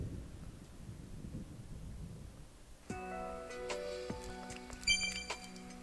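Steady rain and low thunder rumble from the Detective Pikachu video game, a continuous hiss for the first few seconds before melodic game music with chiming notes rises over it.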